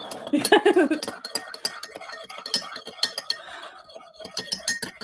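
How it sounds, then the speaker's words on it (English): A spoon stirs sugar in a cup, clinking repeatedly against the sides in an irregular, close, fairly loud rhythm, with a brief voice near the start. "I'm gonna stir the sugar before adding the milk"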